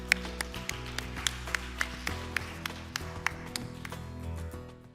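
Sparse applause at a Singapore seminar as a speaker is welcomed: a steady run of single, distinct claps from a small audience, close and moderately loud, thinning out toward the end.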